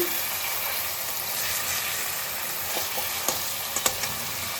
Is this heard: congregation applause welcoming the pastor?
no